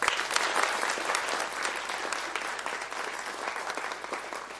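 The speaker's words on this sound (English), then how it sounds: "please join me in saying thanks through a big round of applause" Audience applause at an annual institute convocation ceremony, a sustained dense clatter of many hands, moderately distant and even in level, with no talking over it.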